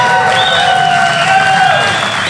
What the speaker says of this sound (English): Yeah, you can applaud them